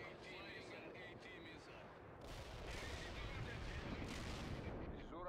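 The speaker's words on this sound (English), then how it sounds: "Launching a flying missile" A missile launch roars amid a World in Conflict battle, a sustained rumbling whoosh that swells about halfway through and continues loud, with radio-style voices over the early part.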